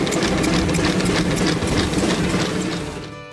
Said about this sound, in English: We cook ham and beans in these stainless steel aluminum pots with this steam engine every year for our show.